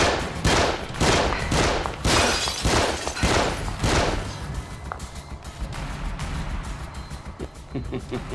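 A rapid burst of gunfire from The Evil Within, sharp repeated shots clustered over the first few seconds, then tapering into a denser, lower rumble of game noise.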